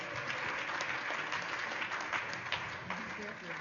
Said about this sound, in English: another round of applause for our auction people